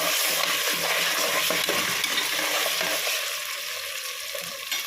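Beans, peas, meal maker, salt and tomato stir-fried together for brinji rice, a dense close sizzle with rhythmic scraping stirs that eases slightly near the end.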